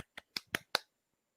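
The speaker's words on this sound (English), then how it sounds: "Virtual clap." Five sharp, dry hand claps or snaps ring out in a quick, slightly uneven series, close and isolated, during an online webinar, then silence.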